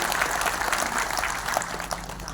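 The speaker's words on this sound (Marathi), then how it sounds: "सर्वांसाठी जरा आपण जोरात टाळ्या वाजूया" Hall audience of port pensioners at a gathering applauding together, a continuous, moderately loud patter of many hands without pauses across the short stretch.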